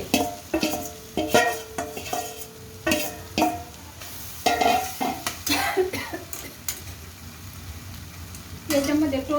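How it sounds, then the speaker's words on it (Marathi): Crumbled leftover bhakri pieces and onion sizzle in a pan while a spoon stirs, scrapes and taps the metal over and over, loud and close, with a brief cough in the middle. "ते पाहता असे छान चांगले 3-4 मिनटं चांगलं परतून घ्यायचे मिक्स करून"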